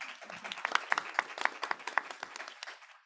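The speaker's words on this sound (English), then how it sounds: "Round of applause." A short, moderate round of applause from an audience at a policy event, with individual claps fairly distinct, building and then thinning out as it ends after about three seconds.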